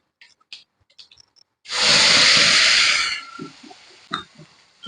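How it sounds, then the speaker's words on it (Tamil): Tomato chutney frying in oil for a roadside-stall style Tamil thanni chutney, with a loud hissing sizzle that lasts over a second and then fades, framed by small clinks and stirring taps nearby. "எண்ணெயிலே கொஞ்சம் வதங்கணுங்க"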